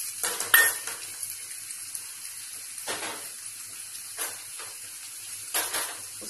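Tomatoes frying in a pan for mutton kofta give a soft, continuous sizzle and hiss, with a few light clinks and scrapes of a utensil stirring against the pan.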